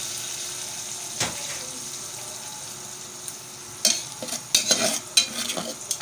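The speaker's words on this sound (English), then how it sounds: "The stock will now be added to it, so that the liquid volume can increase in the soup. Okay, here goes the stock." Stock is poured into a pot of melon seed soup and stirred, with a soft liquid rush followed by clustered sloshing and spoon clatter close by.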